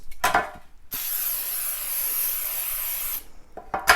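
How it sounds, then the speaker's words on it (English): A steady hiss of aerosol cooking spray coating a loaf pan lasting a couple of seconds, bracketed by soft clinks and handling noises of the pan. "This is just a regular loaf pan. We're going to go ahead and spray it."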